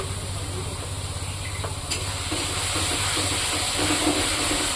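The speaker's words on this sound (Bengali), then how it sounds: "এই যে মশলাটা কষাচ্ছি" Masala spices fry in a pan for a home-cooked meat curry, with a steady, close sizzle and hiss that grows slightly louder toward the end.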